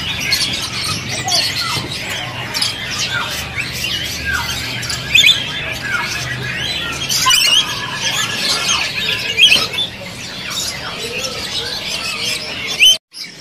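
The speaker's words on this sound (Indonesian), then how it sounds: "Nuri ambon." An Ambon lory parrot at a bird market kiosk squawks and squeals repeatedly, loud shrill calls close by, mixed with other birds chirping in the background.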